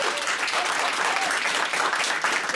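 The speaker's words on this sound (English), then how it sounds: "Give them a round of applause." An audience at a team gathering gives a dense, steady round of applause, loud and continuous, with a faint voice or cheer mixed into the crowd noise.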